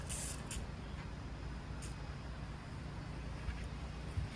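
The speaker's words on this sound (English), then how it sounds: "Just gonna spray a bunch down there, see if it makes it in there somehow" Several short hissing bursts from a can of spray lubricant aimed at a squeaking part of a lawn tractor, set against a low rumble of steady background noise.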